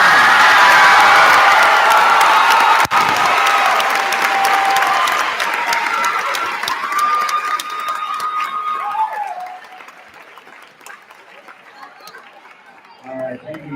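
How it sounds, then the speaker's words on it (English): Applause and cheering from a crowd at an 8th grade promotion ceremony, loud and sustained with scattered whoops and chatter, gradually thinning toward the end. "Give them a big round of applause"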